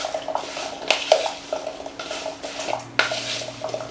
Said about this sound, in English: you're going to take 1 teaspoon of cinnamon and sprinkle it over, and we're going to mix that together